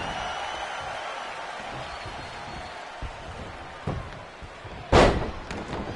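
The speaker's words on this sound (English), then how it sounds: "An earth-shaking power slam." A power slam in the WWE 2K20 wrestling game lands as one loud, heavy thud near the end, with a smaller thump just before it, over a steady crowd roar.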